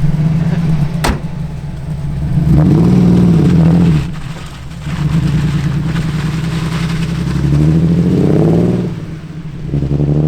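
A Ford Fiesta RWD Cosworth with a five-cylinder engine rumbles close by, rising in two swelling revs between steadier running, with a sharp click near the start.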